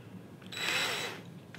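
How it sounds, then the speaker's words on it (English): A cordless drill driver spins up briefly with a wooden marking gauge piece chucked in it, a short, moderately loud whirring burst rising and fading over about half a second against quiet room tone. "I'm going to chuck it into a drill driver, just like this."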